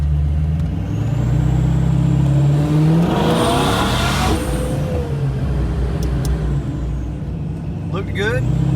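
A supercharged Ford Fox-body Mustang with an automatic transmission accelerates in first gear from a slow roll, its engine droning steadily before rising in a strong swell of pitch and volume midway, with voices audible alongside.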